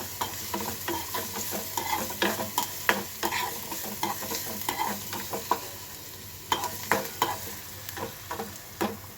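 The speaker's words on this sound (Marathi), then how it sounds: "कांदा असं ट्रान्सपरंट होईपर्यंत परतायचा आहे तुम्हाला कांदा." Chopped onion sautéed in a pan until transparent, giving a moderate sizzle broken by repeated scraping and stirring strokes from a spatula in an irregular rhythm.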